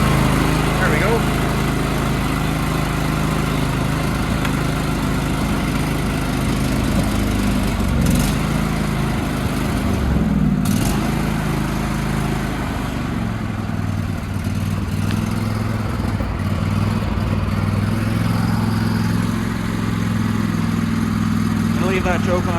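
A John Deere lawn mower engine running with the choke on, a steady loud drone throughout with slight wavering, while someone talks over it.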